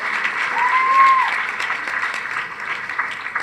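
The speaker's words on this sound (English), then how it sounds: "Please give her a big round of applause." A round of applause at the Dunrobin Christian Academy graduation ceremony in 2025, even crowd clapping at moderate distance that swells briefly near the start and then holds steady, with a short whistle-like tone rising above it.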